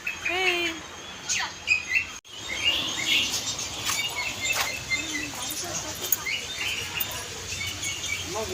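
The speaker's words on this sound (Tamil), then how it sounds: "இதெல்லாம் சிட்டுக்குருவிங்க. சிட்டுக்குருவி இல்லைப்பா, இது வந்து ஒரு குருவி மாதிரி இருக்கு." Small sparrow-like birds chirp and twitter repeatedly in a shop, their calls close and steady over a busy background hum, with a voice talking throughout.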